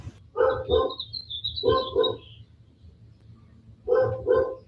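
A dog barks in quick pairs, three bursts of two sharp barks with pauses between, fairly close, over a faint low hum.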